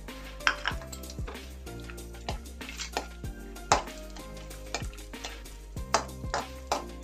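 Cashews frying in ghee in a metal pan, with a spatula scraping and clanking against the pan in irregular close strokes over a faint background sizzle.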